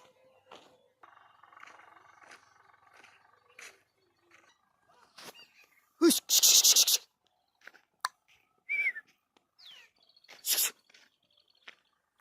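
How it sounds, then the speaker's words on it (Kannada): Birds perched near a canal by a sorghum field outdoors, giving scattered chirps and calls among quiet gaps, with a few louder harsh bursts and faint voices talking. "ಹಕ್ಕಿಗಳು ಕೂತಾಡ್ತಾಡ್ರಿ, ಕಲ್ಲು ಹೋಗಮ್ರಿ ಅವಕ್ಕೆ ಎದ್ದು ಹೋಕ್ಕೋ."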